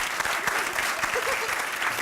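An audience at a college elevator pitch competition claps in a brief, lively round of applause, dense and close throughout.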